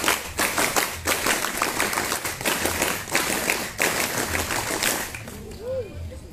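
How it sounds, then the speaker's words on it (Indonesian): A Pramuka scout group claps a rhythmic scout clap twice over, loud and close, in sharp bursts of many hands before it stops near the end, where a brief voice is heard. "2 kali tepuk pramuka."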